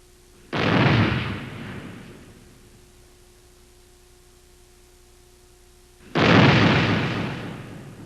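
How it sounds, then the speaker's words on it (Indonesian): Two explosions in an underground mine tunnel, each a sudden loud burst that decays slowly over about a second and a half, spaced roughly five seconds apart, with a faint steady hum between them. "Ledakan dapat dipadamkan dengan air yang ditebarkan dari kantung pertama."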